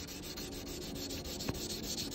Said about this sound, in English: Use Windex. You gotta have some kind of lubricant on there for hand sanding.